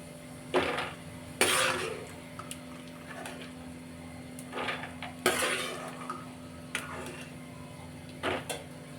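A spoon scrapes and rattles peanuts around a metal kadai as they roast until reddish, in short, irregular bursts, fairly quiet, with pauses between the stirs.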